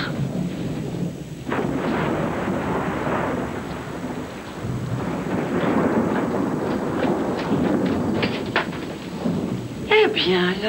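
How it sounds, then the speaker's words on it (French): Heavy thunder rolls and rumbles continuously through a thunderstorm with steady rain underneath, loud and close, in a 1994 French TV film, with voices talking over part of it. "il a peur du tonnerre"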